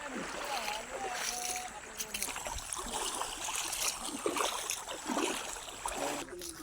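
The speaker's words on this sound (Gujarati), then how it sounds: "નાનું છોકરું હોય ને તો તણાઈ જાય એટલું પાણી હાલે છે અહીંયા" A strong water current rushes past a riverside shrine, fast enough to sweep away a small child, producing a steady, loud, broadband roar throughout with faint voices underneath.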